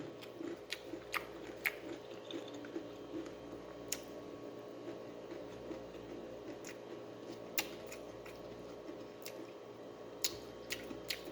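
Crisp crunching bites of fried chicken skin at irregular intervals, close and sharp, over a steady background hum, with no talking.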